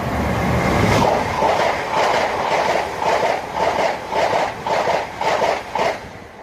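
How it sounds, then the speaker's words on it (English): Class 332 trains on the Heathrow to Paddington service pass close by at Southall on the Great Western Main Line, a loud rolling rumble with rhythmic clickety-clack of wheels over rail joints. "Those are some 332s running a service from Heathrow to Paddington."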